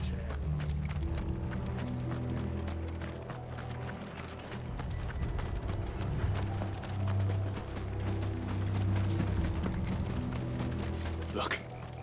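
Horses gallop in Final Fantasy XVI with a steady, close clip-clop of hooves over low rumbling game ambience and music, continuing throughout with a louder burst near the end.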